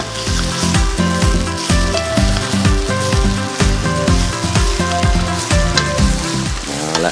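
Crispy fried snakehead fish with holy basil and red chilli is stir-fried in sauce over high heat, its steady sizzle largely masked by loud rhythmic background music throughout.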